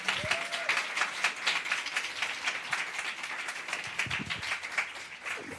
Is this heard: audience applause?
yes